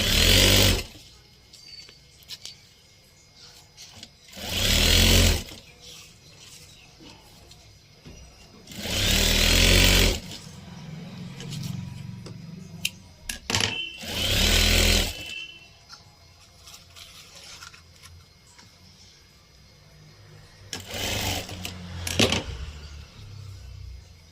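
A sewing machine stitches lace onto fabric in four loud, close bursts of rapid whirring, each a second or two long, with quieter gaps of handling between them.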